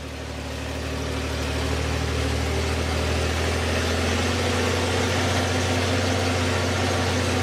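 A 1953 Autocar truck engine runs steadily from inside the cab, a loud, continuous low rumble with a deep idle throb and rattling vibration that holds even throughout.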